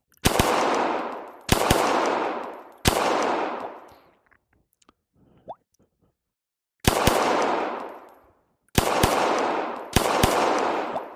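Sharp bursts of rapid gunfire from the ACE VR shooting game, six loud volleys each ringing briefly, separated by short pauses and a quieter gap in the middle with a few faint clicks.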